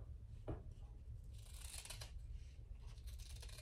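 Scissors trim fabric for a small tote bag in a soft, close series of snips and rustles, fairly quiet over a low steady background hum, with no talking.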